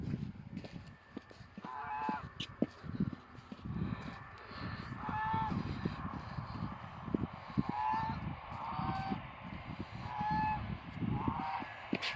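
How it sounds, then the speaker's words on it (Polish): A neighbour's geese in a garden plot honk repeatedly at a distance against a busy outdoor background, their calls coming in scattered bursts. "Tutaj sąsiad ma gęsi, jak słyszycie."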